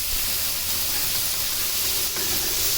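Chopped tomato hits a hot pan of oil and sizzles with a loud, steady hiss that holds evenly the whole time, close and unbroken, with no talking.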